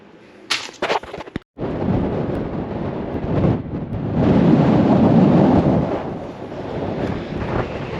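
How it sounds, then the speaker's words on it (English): Strong wind during a cycle tour, gusting loudly across the microphone in blustery roaring surges with a few sharp buffeting bumps near the start and no speech. "I just know I've got a long way to cycle in this wind"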